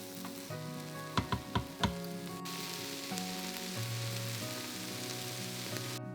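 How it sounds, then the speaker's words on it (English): Onions and garlic sautéing in melted butter in an Instant Pot inner pot, a steady close sizzle with a few sharp stirring clinks early on, then continuous frying hiss. "Let the butter melt and then add the onions and garlic and sauté until the onions are soft and translucent"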